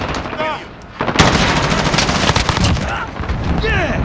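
Gunfire in Call of Duty Modern Warfare team deathmatch: a loud, rapid burst of automatic weapon fire lasts several seconds, with a few sharp shots before it and quick game sound effects around it.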